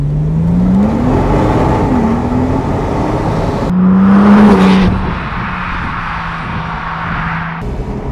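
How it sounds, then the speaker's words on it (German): 2010 Porsche 997 Turbo Cabrio with 500 PS accelerating hard from standstill to 100 km/h, loud engine climbing through rising revs with gear-change dips, heard from inside the car. "Jetzt zeigen wir euch nochmal, was es heißt, von 0 bis 100 in knapp über 3 Sekunden zu beschleunigen."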